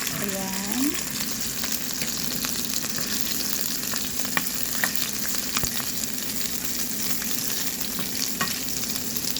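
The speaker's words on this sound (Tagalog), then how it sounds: "Akong pritong meatballs" Continuous crackling sizzle of meatballs frying in a pan, with occasional scraping stirs, close and steady throughout.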